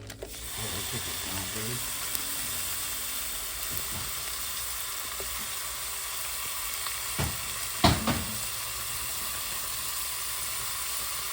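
Meat sizzles and crackles steadily in a hot pan, with a few scrapes and clanks of a utensil stirring it.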